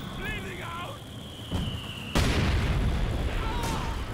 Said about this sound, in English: US mortar's doing some work now